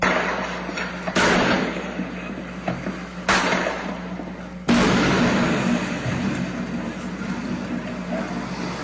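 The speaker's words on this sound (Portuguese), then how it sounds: "No vídeo gravado por um vizinho, é possível ouvir os disparos e as explosões" Three sharp bangs of gunfire and explosions during an attack on bank cash machines, a couple of seconds apart, somewhat distant, each followed by lingering rumble over constant background noise.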